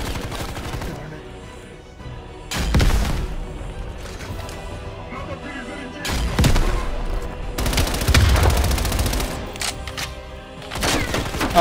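Gunfire in Black Ops Cold War rings out in several loud bursts of rapid automatic shots, including an AK, separated by quieter stretches of in-game ambience.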